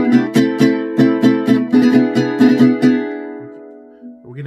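Straight, even strums on a vihuela, about eight bright chord hits at a steady beat, then the chord rings out and fades.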